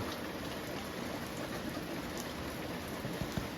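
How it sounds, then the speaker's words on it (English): Rain pours steadily onto surfaces nearby, a dense, even hiss of drops with occasional louder splatters and no voices. "We just cut loose here with some rain"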